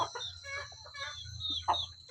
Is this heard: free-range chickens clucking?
yes